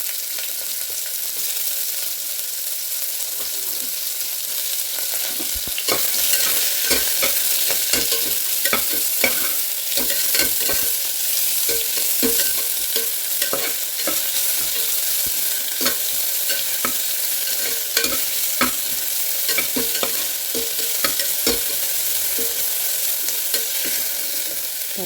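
Onions sizzle steadily in a hot pan while a utensil scrapes and stirs in frequent irregular strokes, close and fairly loud, with no talking.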